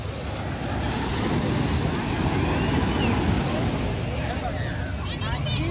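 Sea waves at Shivrajpur Beach roll and wash steadily, a broad continuous surf roar with wind buffeting the microphone throughout.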